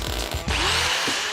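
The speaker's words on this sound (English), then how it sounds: "An angle grinder quickly smartens them up." An angle grinder works over freshly welded metal chevrons during a restoration, a harsh grinding whine that rises after a brief pause and runs close and steady for about a second.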